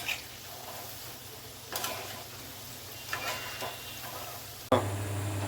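Sprout bhaji frying in oil in a pan, a soft continuous sizzle with occasional scraping stirs and clinks, fairly quiet and close, with no talking.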